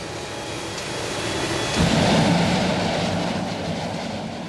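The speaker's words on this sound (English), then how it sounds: "the airport shook to the thunder of the engine being run up and down" Aircraft engine being run up and down on a remote part of an airport airfield, a steady broadband roar that swells louder around the middle and holds, with no talking.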